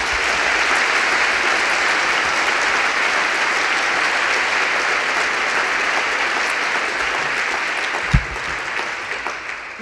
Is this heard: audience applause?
yes